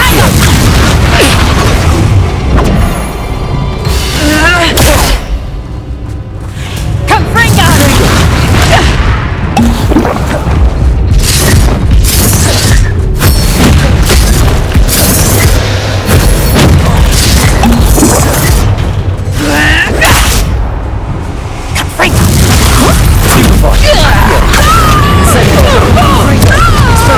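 Hogwarts Legacy Bombarda and Confringo spells erupt in loud, near-continuous booming explosions with crashing debris and whooshes, while a voice shouts spell names over the barrage.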